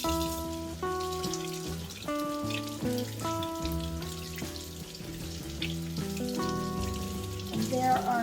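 Fresh garden basil is rinsed under running water, with a soft, steady splashing patter heard under louder background music.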